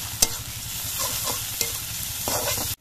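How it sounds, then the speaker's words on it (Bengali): Onions with ginger paste stirred and fried in a pan, a steady sizzle with scraping strokes of a spoon against the pan, loud and close, with no voices. "একটু নাড়াচাড়া করে ভেজে নিতে হবে"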